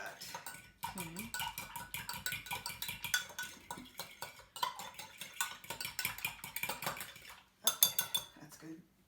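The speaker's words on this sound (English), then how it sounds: "you just kind of mix it up a little with a fork or a whisk" Rapid metal fork clinking against a bowl while egg yolk is whisked into milk for a rhubarb pie, busy rhythmic tapping with short pauses, fairly close.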